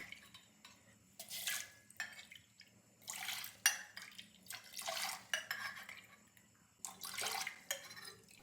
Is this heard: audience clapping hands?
no